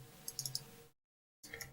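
A computer mouse clicks several times in quick succession, faint and close, then falls silent before a soft rustle returns.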